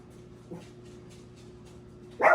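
Dogs bark in a home during cooking: one short bark early on, then a louder, sharper bark at the very end, with quiet background between.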